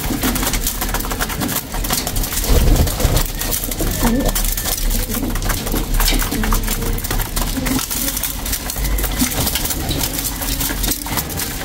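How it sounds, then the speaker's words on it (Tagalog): A flock of pigeons coos in a soft low chorus amid fluttering and pecking clatter, with people talking nearby. "Dito yung matatandang kalapati"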